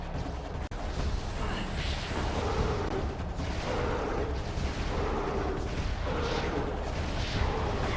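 Heavy weapon fire and blasts in Metroid Prime 2 as shots hit Dark Pirate Troopers, a dense, continuous barrage of booming impacts and rumbling explosions with no pauses over several seconds.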